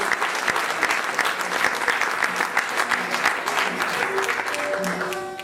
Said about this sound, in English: please give those guys a big round of applause, please